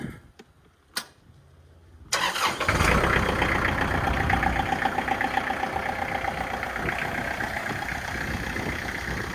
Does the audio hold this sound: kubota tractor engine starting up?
yes